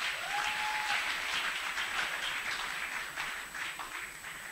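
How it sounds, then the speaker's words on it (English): Church congregation at a Sunday service in Owerri, Imo State, clapping hands together, a fairly faint, steady patter of many claps sustained throughout, with a brief tonal whistle early on and no speech. "Clap your hand for them."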